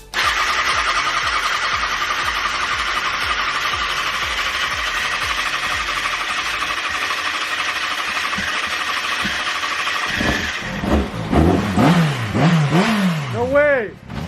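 The engine of a 2007 Kawasaki Ninja ZX6R motorcycle, which sat unused for ten years, cranks steadily for about ten seconds. It then catches and fires into rising and falling revs, with excited voices over it.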